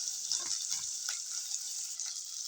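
Chopped onion sizzling in hot oil with mustard seeds in a pan, a steady close hiss with a few soft stirring scrapes, no talking.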